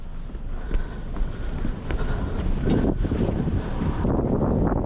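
Wind roars across a boat in steady gusts, a rough rushing noise with no voices.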